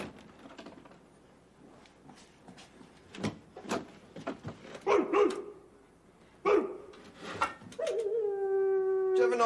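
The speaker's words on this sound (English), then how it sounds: "Dogs." Several dogs barking in irregular bursts around a household doorway, building to a sustained wavering howl near the end, fairly close and loud.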